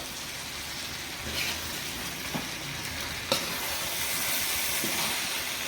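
Chili powder frying in hot oil in a pan, a steady soft hiss and sizzle with a few small pops, fairly quiet and with no voices over it.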